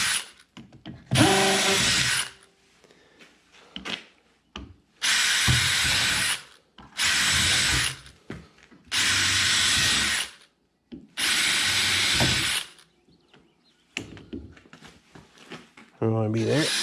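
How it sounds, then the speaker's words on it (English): A power drill boring fresh rivet holes in the metal of a 1998 Argo Response amphibious vehicle under repair: five loud, close whirring bursts of one to two seconds each, with short quiet gaps between them. "so we want to put some fresh holes in there"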